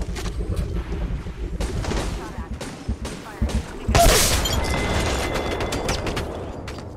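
Gunfire in Apex Legends Mobile, bursts of rapid shots and a louder blast around the middle, mixed with a player's voice talking over the action.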